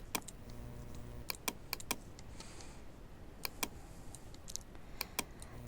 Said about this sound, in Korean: 컨트롤 S를 누르고요